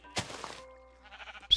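A sheep in the video game Minecraft gives a short, quiet bleat, faint and isolated amid otherwise quiet game sound.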